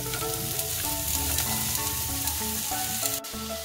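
Two medium onions, chopped small, sizzle steadily in hot oil, a loud continuous frying hiss with a faint background hum and a sudden clatter near the end.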